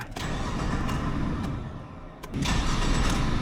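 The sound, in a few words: starter motor cranking a 1996 Ford F-350 351W engine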